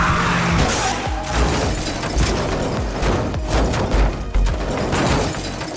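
A nighttime street car crash in a film scene, with loud continuous crunching, skidding and smashing impacts, dense and sustained throughout with a few sharp bangs near the end.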